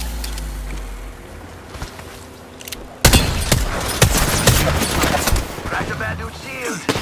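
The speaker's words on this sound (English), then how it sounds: "Getting shot at." Rapid bursts of gunfire from the Apex Legends video game erupt after a quieter stretch, dense and loud, with overlapping shots and impacts continuing to the end, mixed with game voice lines.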